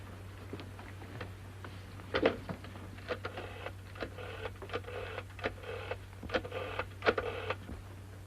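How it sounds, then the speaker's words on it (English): Mechanical clicks and ratchets of an old rotary telephone dial in a 1936 film, an uneven run of quiet taps and whirring returns over a steady low hum, with no talk. "Will you ring up Whitehall 1212? May I use your phone?"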